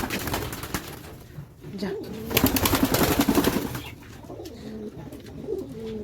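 Lotan pigeons cooing close by in a home loft, repeated low throaty coos in bursts alongside rustling and clatter, with a person speaking briefly.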